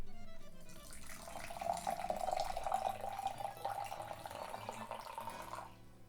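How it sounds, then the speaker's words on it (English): Hot water runs steadily into a mate gourd for chimarrão, a continuous close pouring and gurgling stream lasting several seconds with no talking. "I put water straight in here first, up to more or less here, basically at the bottom."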